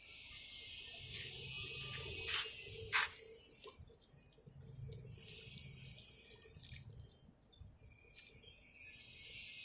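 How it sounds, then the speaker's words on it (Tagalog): Water pours and splashes onto soil around newly transplanted tomato seedlings in containers, steady trickling with a couple of brief louder gushes, while birds and crickets chirp faintly outdoors. "ang susunod na gagawin natin dito ay babasain ng tubig itong ating mga bagong lipat na"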